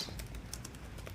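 Quick, light clicks of typing on a computer keyboard, a faint irregular patter of a few keystrokes over a quiet background.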